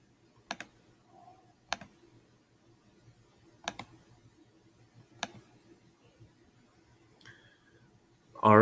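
Individual key presses on a computer keyboard, five sharp clicks spaced about a second or more apart in a quiet room, followed by a louder clatter at the very end.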